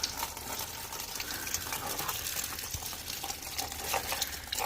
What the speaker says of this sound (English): There's all the coolant coming out.